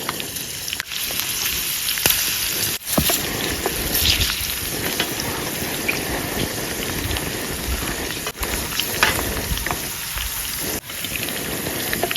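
Cauliflower frying in a pan at a night campsite in the forest makes a loud, steady crackling sizzle, dense and continuous like rain, with no voices over it.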